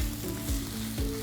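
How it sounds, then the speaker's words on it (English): Steady, close sizzling and crackling of vegetarian fried rice frying crispy in a hot pan, with a low rhythmic scraping now and then as it's stirred. "start frying that up. Get it nice and crispy."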